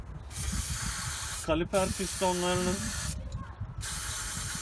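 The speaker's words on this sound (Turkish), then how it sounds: "şu balata spreyini bir verir misin?" Brake cleaner sprayed onto the brake caliper of a Honda Accord: a close, loud, sustained aerosol hiss with a short break, while someone speaks over it.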